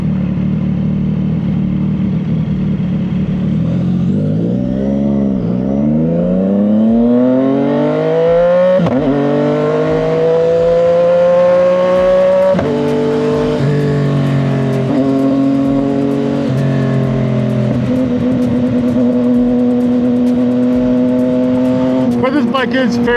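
CFMoto 675SS sport motorcycle engine revving up and down in rising and falling sweeps, close and loud, with a steady idle between blips and people talking over it.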